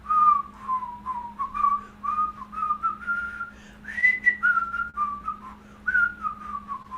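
A person whistles a simple, slow melody, a nursery-rhyme tune, with clear sliding notes in steady phrases over a low constant hum, close and moderately loud with no talking.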